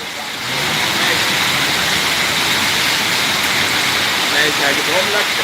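Heavy rain pours in Kuwait, a dense, continuous roar like a waterfall, loud and close, with a faint hum of passing traffic underneath.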